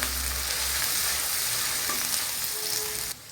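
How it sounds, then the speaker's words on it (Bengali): Chopped onion and garlic fry in oil in a pan with a loud, steady, close sizzle and occasional stirring scrapes, ending in an abrupt drop. "প্রথমে দিয়ে দেব পেঁয়াজ কুচি, তারপর দিয়ে দেব রসুন কুচি। পেঁয়াজটা রসুনটা একটু ভেজে নিব।"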